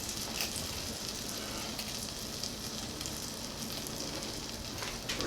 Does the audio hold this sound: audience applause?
no